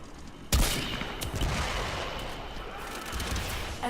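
Heavy Zarr cannon fire in Warframe, a sharp blast at the start followed by a dense, continuous roar of explosive rounds and booming impacts, loud and sustained with no talking.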